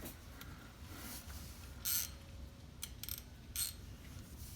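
Oil drain plug on a Ford Fusion being loosened with a ratchet under the car: a few quiet, brief bursts of clicking ratchet action over a faint background hush, without talking.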